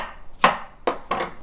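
A knife chops pear into small pieces on a cutting board while a marinade for LA galbi is prepared: three sharp, close chops spaced roughly half a second apart.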